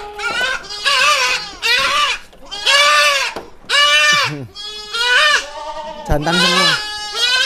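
Goats on a goat farm bleat loudly and repeatedly close by, a run of wavering, cry-like calls with short pauses, while someone speaks briefly between them.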